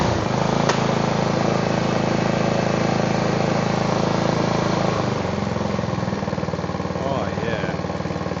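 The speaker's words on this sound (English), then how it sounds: "Hopefully that stops the 2-stroke smoke." A small two-stroke engine on a cutting tool runs on fresh fuel mix, a loud buzzing drone held steady, then dropping in pitch near the end, close by with no speech.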